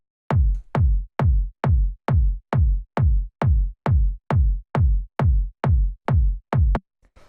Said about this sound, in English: punchy, almost like a standard techno kick